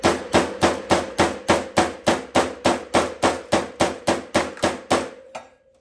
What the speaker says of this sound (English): I'm just lightly tapping it.